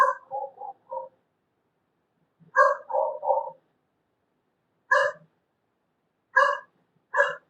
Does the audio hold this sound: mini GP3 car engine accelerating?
no